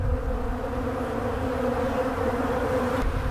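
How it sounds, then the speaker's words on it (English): Honey bees humming steadily over an open hive during a beekeeping inspection of a split, a close, continuous drone with no voices. "all these bees, you can see they got their heads down in there"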